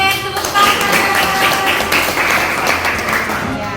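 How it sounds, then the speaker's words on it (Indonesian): Students in a classroom applauding, a dense, continuous patter of many hands clapping with some voices mixed in, fairly loud and close. "Oke, tepuk tangan."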